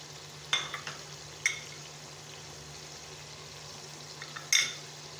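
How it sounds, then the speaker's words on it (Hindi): Goat meat frying in a pan with spices and crushed green chillies for white biryani: a faint, steady sizzle with a few sharp clinks and scrapes as it is stirred, no voices. "इसको अच्छी तरीके से भूनते हैं अभी थोड़ा सा ताकि हमारा गोश्त पक जाए"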